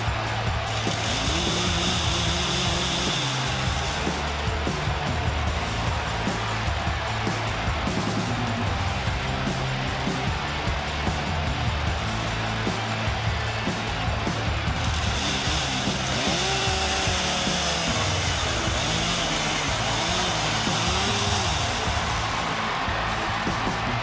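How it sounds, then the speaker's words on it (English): A chainsaw at a wrestling event, its engine buzzing loudly and continuously for a long stretch with rising and falling revs. "Give the man a chainsaw."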